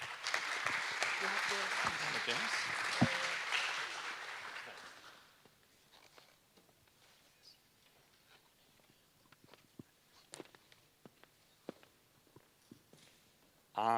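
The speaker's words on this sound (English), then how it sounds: "Big applause for Jose." Keynote audience applause in a conference hall, a dense wash of clapping for the first five seconds that fades out, leaving quiet room noise with scattered small knocks.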